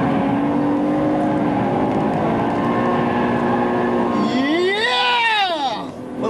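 A BMW M5 engine pulls hard on a Nurburgring lap, a loud steady in-car drone that climbs sharply in pitch near the end as the throttle opens, then drops away.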